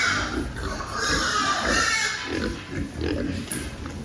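Pigs grunt and squeal close by, several animals making overlapping noises with a busy background hum.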